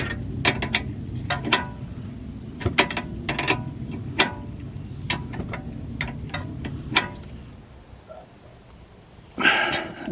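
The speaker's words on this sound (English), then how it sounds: "then just tighten down the nut with the regular 21mm wrench" A regular 21mm wrench tightens the tie rod end nut on a BMW 1 Series, giving a series of sharp metallic clicks and ratcheting taps in uneven bursts, close up, followed by a brief clatter at the end.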